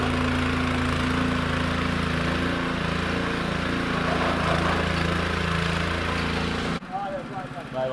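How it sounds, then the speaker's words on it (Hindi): A generator runs at a construction site in Dubrovnik, a loud, steady engine drone with a low humming tone that holds for several seconds before cutting off abruptly into quieter background sound. "पीछे जनरेटर है"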